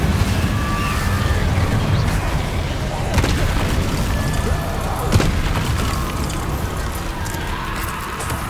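Incendio fire spells cast repeatedly in Hogwarts Legacy: dense, roaring magical fire and combat effects fill the game soundscape, with two sharper bursts standing out mid-way among the steady rumble.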